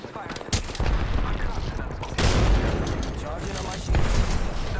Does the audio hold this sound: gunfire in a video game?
yes